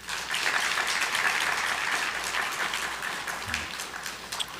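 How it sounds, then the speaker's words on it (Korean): A church congregation applauding a soldier's greeting after his discharge, a full, even wash of clapping that holds steady for several seconds, with a brief low voice near the end. "인사할 때 크게 박수하세요"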